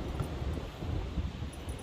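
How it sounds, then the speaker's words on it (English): Wind buffets a microphone outdoors in a yard on a gusty day, a steady low rumbling roar with no pauses across the short stretch. "The wind is very windy today"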